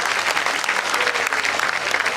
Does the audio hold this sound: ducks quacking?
no